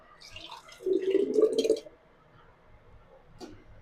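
Tomato passata pours into jars in a home kitchen, making a short liquid gurgle and splash of about a second followed by faint drips and clinks, with no speech.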